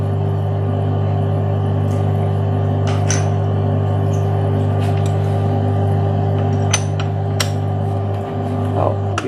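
An angle grinder runs continuously with a steady droning hum and rumble, with faint clinks and knocks over it and a brief dip near the end.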